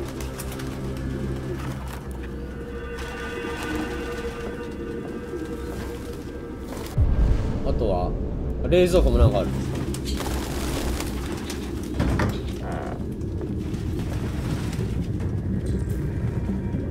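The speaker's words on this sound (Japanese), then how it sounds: "もうハトは勘弁してくれ" Pigeons coo steadily in the background of a Detroit: Become Human game scene, with soft ambient noise and a few louder bumps, while a person speaks briefly over them.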